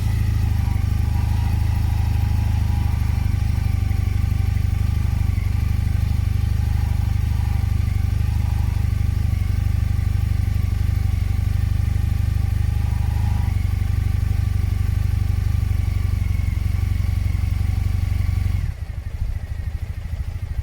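A 2015 Triumph Bonneville motorcycle engine idles steadily at a low, rumbling pace, slightly low idle, running continuously before cutting off near the end.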